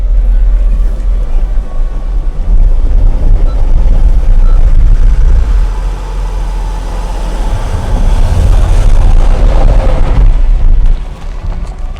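A 2WD Mercedes Sprinter diesel van climbs a hill, its engine droning loud and steady from inside the cab with rumbling road and tire noise, surging and easing briefly near the end.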